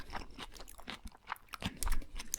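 Someone bites into a Burger King Big King burger up close, with soft crunchy bites and wet, irregular chewing in uneven bursts, loud and intimate with no talk.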